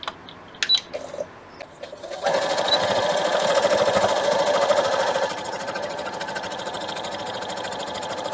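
A sewing machine stitches small fabric crumbs together for a quilt, starting with a few clicks and taps, then running in a fast, steady whir that eases to a slightly quieter pace toward the end.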